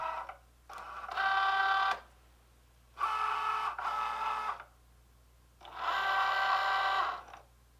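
A Cricut Joy cutting machine cutting smart vinyl, its motor whirring in three steady bursts with quiet gaps between them, close and alone.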